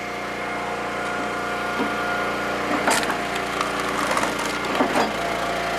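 Huge oak logs split on an Eastonmade Axis log splitter outdoors, a steady hydraulic engine drone with several cracking, splintering bursts of wood giving way near the end.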